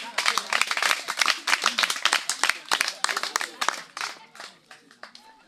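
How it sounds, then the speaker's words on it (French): Audience applause for a music group at a lively gathering: many hands clap in a dense, brisk burst that stays strong for several seconds, then thins and fades toward the end. "Est-ce qu'on peut applaudir pour le groupe encore une fois?"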